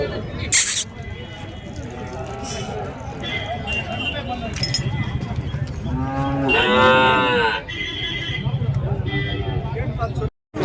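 Cattle at a native cattle market in Madrapalli moo loudly and close by, with a long drawn-out bellow in the middle, over a busy background of people talking and market bustle.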